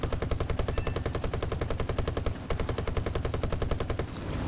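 Rapid sustained bursts of 7.7 mm Browning machine-gun fire from a bomber in the War Thunder video game, loud and steady with a brief pause midway and a slight drop near the end.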